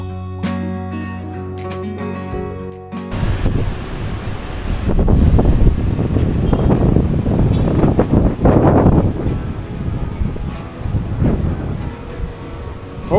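Wind buffets the microphone and surf rushes steadily at Kuta Beach, Bali, loud and continuous after a brief burst of other sound at the start.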